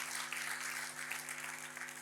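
Faint, dense applause from a church congregation during a sermon, a continuous wash of clapping over a steady electrical hum, fairly distant and even throughout.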